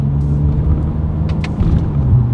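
A 2020 Toyota Avalon TRD accelerates from a rolling start, its engine droning in a low, rising hum heard from inside the cabin, with a brief dip where a paddle-shifted gear change occurs.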